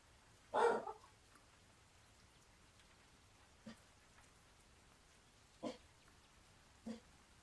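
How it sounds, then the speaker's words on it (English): Several short dog barks at scattered intervals, one louder bark first and three fainter ones later, over a quiet background. "Tuffy, stop barking, please."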